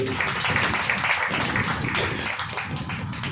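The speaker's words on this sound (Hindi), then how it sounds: "जोरदार ताली बजाकर खुदा का नाम का महिमा करेंगे" Loud clapping from a church congregation fills the space, a dense, continuous wash of hands with a little voice mixed in, steady throughout.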